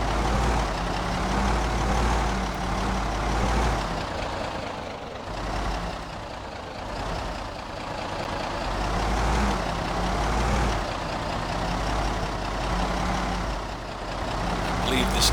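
A van driving in the video game Project Zomboid, a steady low engine rumble that swells and dips in waves, continuous and close throughout.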